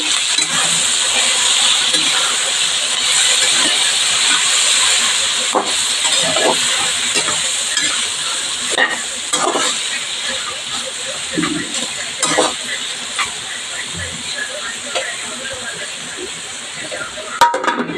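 Mutton cooked with gongura in a hot pan gives a steady sizzling hiss, with irregular scrapes and knocks as a spoon stirs it, heard up close.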